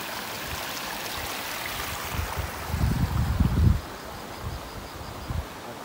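Continuous rushing of flowing water with a broad hiss, swelling louder midway with gusty low rumbles, heard outdoors without talking.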